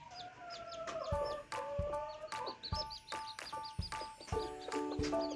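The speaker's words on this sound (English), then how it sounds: "These chicks were literally just born." A farm hen with newborn chicks clucks softly and repeatedly in short, uneven bursts, with thin high chick peeps threaded through. The sounds come from close by at low overall volume.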